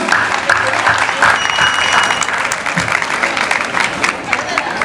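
A hall audience gives sustained, dense applause as a federation president is invited to the stage, loud and continuous throughout with crowd murmur beneath.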